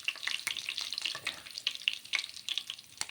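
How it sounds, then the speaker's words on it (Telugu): A paste of coconut, green chilli, garlic and ginger, with mustard seeds, cumin and curry leaves, fries quietly in a pan, crackling and spitting in rapid irregular pops close by. "ఇది ఇప్పుడు పచ్చివాసన పోయేంత వరకు దీన్ని ఫ్రై చేసుకుందాం."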